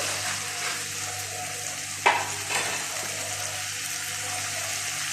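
Mustard seeds crackle in hot oil with fried tomatoes, the start of a tamarind stew with dried prawns and cluster beans: a steady close sizzle with a brief sharp pop near the middle.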